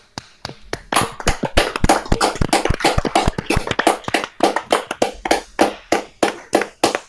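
Applause from an audience after a speech at a town gathering, a dense run of sharp hand claps that swells, holds steady, then thins into a few scattered claps near the end.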